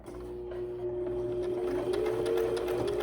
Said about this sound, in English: Removing my pin, and again sewing forward.